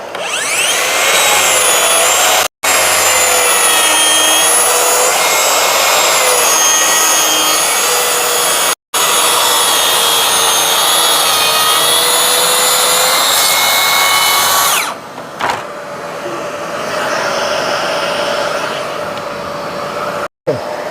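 Makita DSP601 cordless plunge saw running on a guide rail and cutting through unplaned wood, with a Festool dust extractor attached. The blade whines loudly and steadily for about fifteen seconds with two brief gaps, then winds down as the extractor hum continues. A voice is also heard.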